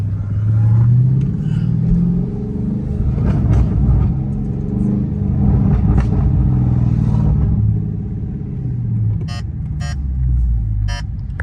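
A Jeep Trackhawk with a loud supercharger whine pulls through traffic, its engine rumbling and revving steadily near the microphone for the whole stretch, with brief high-pitched chirps near the end.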